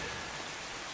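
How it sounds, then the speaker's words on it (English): Steady rain sound effect playing during an online tabletop RPG session, a dense even hiss of falling rain that stays constant and fairly quiet for the whole short stretch. "is blocking some of the rain, but rain is coming down all over."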